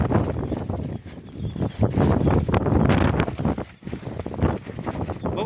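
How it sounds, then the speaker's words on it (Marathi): Strong, gusting wind roars across the Kalsubai mountain summit at night, buffeting the microphone loudly with surging and easing blasts throughout. "खूप वारं येत आहे"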